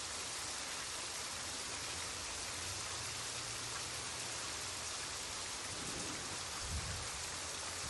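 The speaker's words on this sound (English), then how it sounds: "Who rides a motorcycle in the pouring rain?" Heavy pouring rain in a video game scene, a steady dense hiss of downpour filling the whole stretch, with a brief low thump near the end and no voices.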